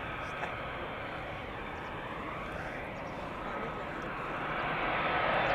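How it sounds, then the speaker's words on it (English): An Airbus A380 on approach to land at Amsterdam Schiphol Airport makes a distant, broad roar that swells slowly and steadily louder toward the end. "looks like the A380 will land on center"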